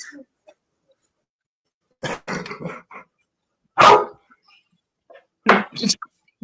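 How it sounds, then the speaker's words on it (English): A dog gives several close, rough barks in short bursts, with a growling edge and silent gaps between them. "You made the dog mad."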